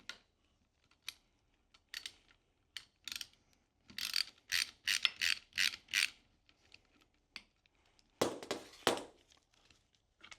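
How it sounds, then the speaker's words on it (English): A ratchet driving an 8mm Allen socket on the oil drain plug at the bottom of a pressure washer pump, heard as close, quiet bursts of rapid clicking separated by short pauses, with a louder run near the end. "take out the oil drain plug at the bottom of the pump using an 8mm Allen socket"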